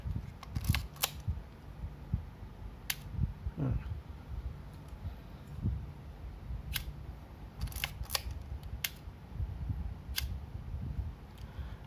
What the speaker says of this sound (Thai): ชัตเตอร์บีให้ดูอีกรอบนึง